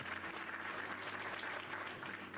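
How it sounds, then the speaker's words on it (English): A steady round of applause, clapping that is continuous and fairly close but recorded quietly during a live stream. "Guys, give Taco Cat a round of applause."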